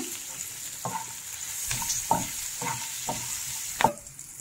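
Curry leaves and garlic fry in a pan with a soft, constant sizzle, broken by about six clear spoon scrapes and stirs at an even rhythm, close and fairly quiet.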